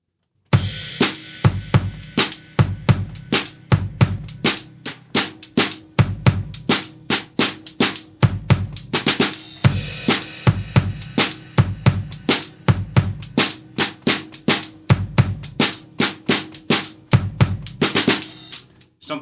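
Drum kit groove from the Arctic Monkeys song "If You Were There, Beware", with busy hi-hat and driving kick and snare hits in a steady, loud, full-band-style rhythm, no talking.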